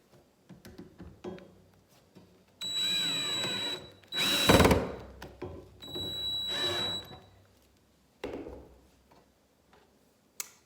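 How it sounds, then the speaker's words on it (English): A cordless drill drives screws through pre-drilled holes to fasten metal hairpin legs to a tabletop, with three loud whirring bursts of a few seconds each, separated by clicks and handling knocks nearby. "Now I'm switching to my other drill."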